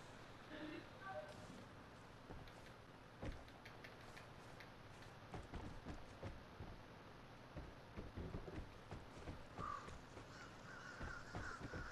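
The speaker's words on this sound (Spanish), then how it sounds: "porque se escucharon los pájaros" Crows caw now and then in the video game Vigor, faint and distant among the game's ambient sounds and clicks.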